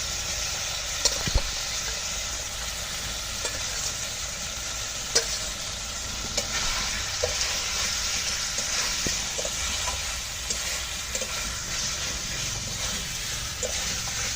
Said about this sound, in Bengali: তরকারির সাথে সুন্দর করে মশলাটা আমি কষিয়ে নেব।